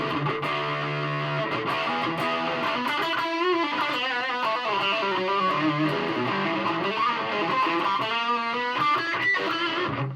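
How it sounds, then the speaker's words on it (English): Distorted electric guitar through a Laney HCM30R amp's distortion channel on the bridge humbucker, crunch set high, plays a riff of chords and single notes, gritty and sustained, loud and continuous for the whole stretch with no talking. "So hit the distortion channel,"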